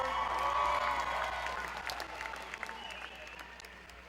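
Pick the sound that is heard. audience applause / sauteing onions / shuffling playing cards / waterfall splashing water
audience applause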